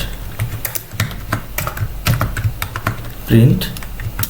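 Rapid, uneven keystrokes on a computer keyboard while Python code is typed, close and clear, with a brief louder thump near the end; no speech.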